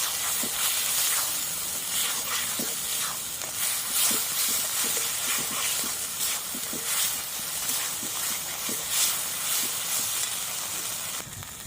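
Spices with turmeric sizzling in hot oil while frying a shrimp and jackfruit curry, a steady loud hiss with scattered crackles and occasional stirring clatter throughout.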